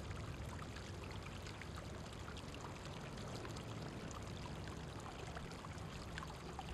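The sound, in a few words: running water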